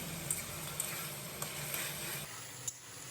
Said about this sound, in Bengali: দিয়ে দেওয়ার পরও আমি কচু শাকটা কিছুক্ষণ নাড়তে থাকবো